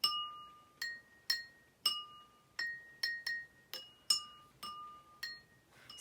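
Glass cups, one of them darker, are tapped one at a time to compare their pitches, about a dozen bright ringing clinks at an uneven pace, each ringing out briefly in a quiet room.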